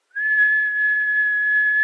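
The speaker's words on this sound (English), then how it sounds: "I'm going to whistle, because I can get like a pure tone when I whistle." A person whistles one steady, pure tone, held clear and loud for almost two seconds, with no other sound.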